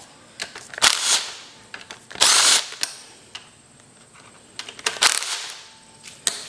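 A wrench works on the handlebar bolts of a Yamaha DT80 enduro motorcycle, giving sharp, irregular metallic clicks and ratcheting bursts, close up, with quiet gaps between.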